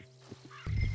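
A horse in the Red Dead Redemption 2 video game, heard as brief soft snorts and low equine sounds over a steady low hum, ending with a louder rough burst.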